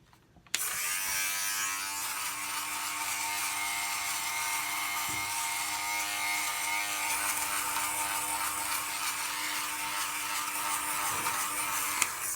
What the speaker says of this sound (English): Here's the sweater shaver I use.